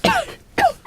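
A voice mimics two coughs caused by airborne dust, each a short throaty burst separated by a brief pause, close and fairly loud.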